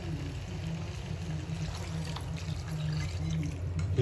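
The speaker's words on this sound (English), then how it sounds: "Same time, I'm adding in some water." Water is poured into a pan of dal curry, a soft steady splashing and trickling running continuously at a low, close level with no talking.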